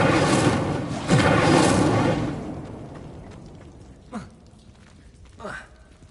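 A fire spell, Incendio, is cast in Hogwarts Legacy, giving a loud whooshing burst of flame over the first two seconds that fades, followed by two brief, quieter swishing effects.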